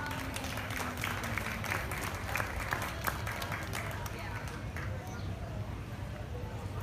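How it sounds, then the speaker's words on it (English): Crowd applause for senior showmen at a youth dairy cattle show ring, a steady, fairly soft wash of clapping lasting several seconds, with a voice talking over the crowd. "let's give all these seniors a big round of applause"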